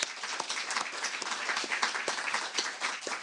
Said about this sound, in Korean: 토론자들에게 박수 한번 부탁드립니다.